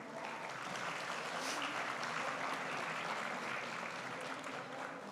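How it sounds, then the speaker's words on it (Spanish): Sustained applause from an audience at a Colombian animation and new-media panel, a steady dense wash of clapping that holds evenly for the whole stretch without any talk. "Un aplauso para él, por favor."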